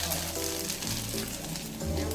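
Curry leaves hit hot oil for a cucumber chutney, giving a close, crackling sizzle with soft hissing pops, while a voice speaks over it.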